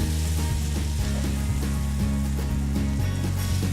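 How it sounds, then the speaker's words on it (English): Butter and flour sizzle steadily in a pan as a roux cooks for Salisbury steak, a loud, constant crackling fry with no pauses and no talk. "we're making a roux. the butter and the flour"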